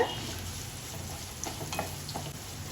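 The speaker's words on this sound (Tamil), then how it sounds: "நல்ல சின்ன வெங்காயமும் பூண்டும் நல்லா வதங்கட்டும்" Small shallots and garlic sauté in oil for a Tamil keerai and prawn stir-fry, giving a continuous close sizzle with faint stirring clicks and no voices.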